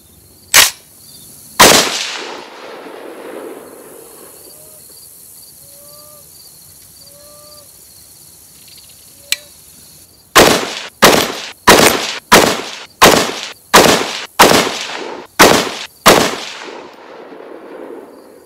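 A Bear Creek Arsenal .308 AR10 rifle firing Hornady match ammunition: two early shots, a pause, then a rapid string of about nine loud, sharp reports at a steady rhythm, each with a short ringing tail outdoors.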